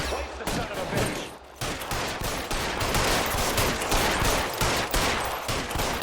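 Loud, sustained gunfire from a shootout in the video game LA Noire, dense bursts of rapid shots crackling nearly continuously, with brief pauses between volleys.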